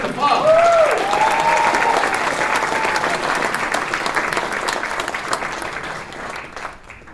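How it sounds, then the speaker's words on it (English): An audience at an amateur musical variety revue applauds John and Linda Fox, a full, close round of clapping that slowly fades, with a brief whistle-like tone near the start. "give a round of applause for John and Linda Fox"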